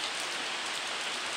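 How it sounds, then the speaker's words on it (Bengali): Heavy rain falls steadily in a village setting, a thick, even wash of close rain noise with no break. "এই দেখুন আবার বৃষ্টি এলো জোরে।"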